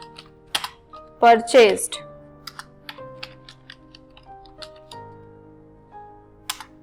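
Keyboard typing while entering a narration in Tally accounting software on a computer: scattered soft key taps run through the clip under and between a man's speech in Hindi.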